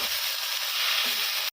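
Ponnaganti leaves frying and being stirred in a pan: a steady, close sizzle that hisses on without a break and then stops suddenly.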